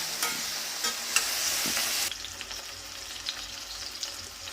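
Onion, green chilli and tomato sauté in a hot pan for a potato peas kurma, a close, continuous sizzle with stirring scrapes, louder at first, then settling to a softer fry.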